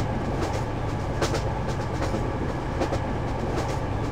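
Animated Norfolk Southern freight train rolling steadily along the tracks, a continuous loud rumble with faint rhythmic clacks of wheels over rail joints throughout.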